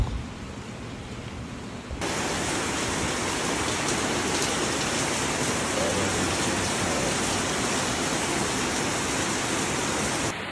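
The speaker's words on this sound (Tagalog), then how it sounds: "buti na lang pahinto-hinto yung ulan" Heavy rain pours down during Typhoon Carina as a dense, steady hiss of water. It starts moderately, then jumps louder after a couple of seconds and stays constant.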